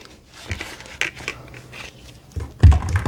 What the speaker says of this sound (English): scissors can be preferable to a knife for zip ties